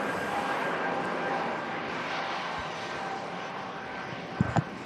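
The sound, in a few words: EasyJet airliner climbing out of Manchester Airport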